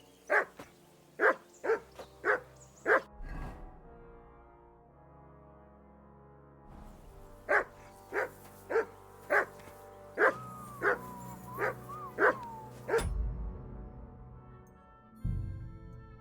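Repeated loud barking from a dog in the video game Kingdom Come Deliverance II, two quick volleys of sharp woofs separated by a brief lull, with low thuds and a short whine in between.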